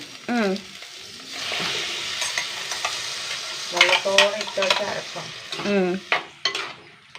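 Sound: curry paste sautéing in a pan

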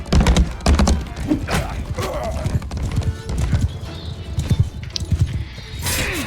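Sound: horse hooves clip-clopping in Mount and Blade II Bannerlord video game

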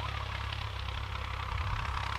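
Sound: CHAMP YTO 454 tractor engine with big exhaust

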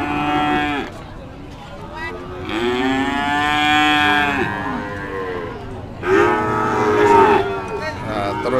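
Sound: cattle mooing at a livestock market

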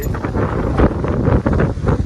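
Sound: strong wind

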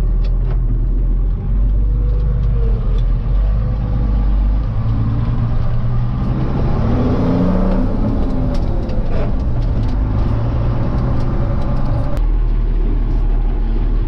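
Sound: Fortschritt ZT 323 tractor driving off

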